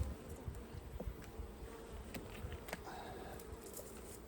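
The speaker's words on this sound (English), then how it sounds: "These are quite nice bees, look." Mongrel honeybees hum in a low, steady drone over their hive frames, faint and continuous with occasional small knocks and no speech.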